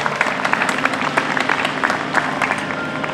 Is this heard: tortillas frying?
no